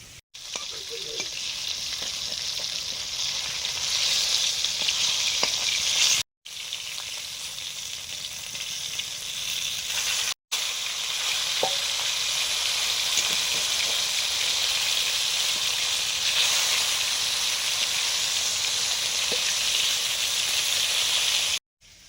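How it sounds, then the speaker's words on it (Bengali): Rohu fish pieces frying in hot oil give a steady, loud sizzle and crackle that runs throughout, broken by two brief dropouts, with occasional clinks of stirring and no talking. "মাছ ভাজা হয়ে গেছে, তুলে নিচ্ছি"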